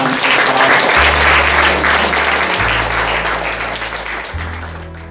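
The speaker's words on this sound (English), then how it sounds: "I want to give yourselves a round of applause." Interfaith immersion trip group applauding themselves, loud, close clapping that stays full for a few seconds, then tapers gradually, with a low background hum underneath.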